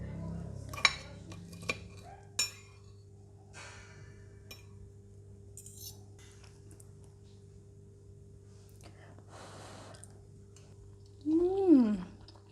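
Cutlery clinks sharply against a plate of prawn fried rice, a few distinct taps early on followed by quieter handling, with a brief vocal sound near the end.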